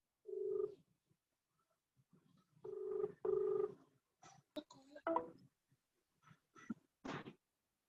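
A telephone rings indoors in short, buzzing bursts, one and then a close pair, before people start talking.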